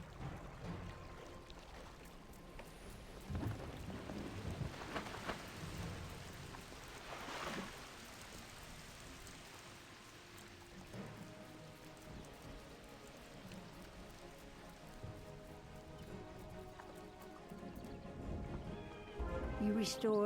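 Gentle rain falls at a shrine in the Wizard101 game world, a steady soft patter that runs throughout alongside faint game music and scattered effects.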